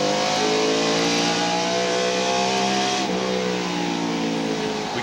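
Mark Martin's NASCAR stock car roars loudly at North Wilkesboro Speedway in the 1996 Tyson Holly Farms 400, heard onboard, with the engine note holding steady and then dropping as he lifts off the gas into a corner.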